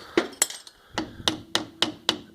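A wheel bearing dust cap is tapped onto the spindle with a hammer, giving about eight sharp metallic knocks at a fairly steady, quickening rhythm, close and clear with no talking.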